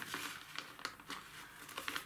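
Thin plastic seedling bag with drainage holes crinkling as it is handled, a run of soft, scattered rustles and crackles close by, with no talk over it.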